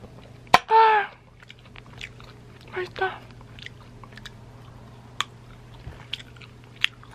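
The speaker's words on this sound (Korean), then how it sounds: "필라이트랑 이 오징어 안주랑 해서 먹어요" Someone eats a dried squid snack alongside Filite beer, with a loud close crunch followed by softer chewing and scattered small bites and clicks against a quiet room.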